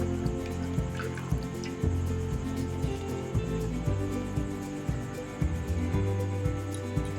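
Water trickles and drips steadily into a bowl while the rinse water for chhena is changed in a home kitchen, a continuous close splashing with irregular small plops.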